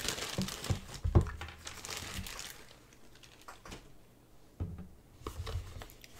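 Close plastic and paper crinkling as a newly bought Lamy Vibrant Pink pen package is unwrapped, in uneven bursts of rustling and tearing with quieter pauses between.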